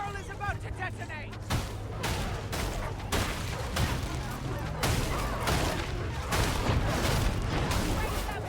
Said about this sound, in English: Barrel is about to detonate!